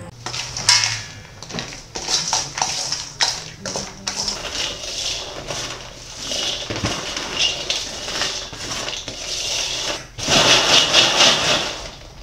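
Icing for twisted donut balls stirred and tossed in a bowl, with repeated close scraping and clinking of utensil on the dish in an uneven rhythm that grows louder toward the end.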